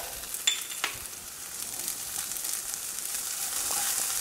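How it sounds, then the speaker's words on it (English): Garlic sizzles in a hot pan alongside golden onions, a continuous bright crackle with a couple of sharp spits and stirring taps near the start. "throw in our garlic"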